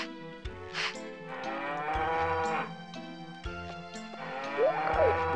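Cows mooing in the video game Harvest Moon 64, several long synthesized moos in succession, loud and close with a tonal, droning quality and no talk over them.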